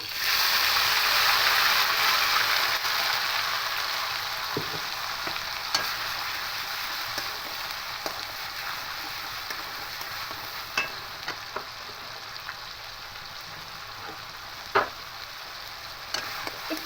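Onion paste sizzles steadily as it fries in a pan with whole cumin, cloves and cardamom for a katla fish rezala, the hiss loud at first and gradually settling, with occasional scrapes and clicks of stirring.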